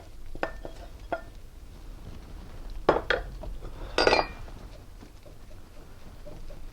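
Metal spatula chopping scrambled eggs into chicken fried rice in a pan: a few scattered sharp clinks and scrapes, close and fairly loud, with quiet gaps between strikes.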